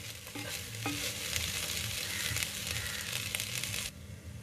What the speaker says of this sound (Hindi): मिक्स कर देते हैं हल्के हाथ से